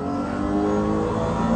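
A 1998 Porsche 911 GT1 slot car accelerating along a track, a loud, steady whining motor tone that rises slightly, close and continuous with no speech.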